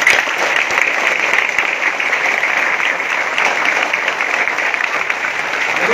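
An audience at a consumerism orientation talk claps steadily and loudly, a dense, continuous wash of applause filling the room throughout with no break.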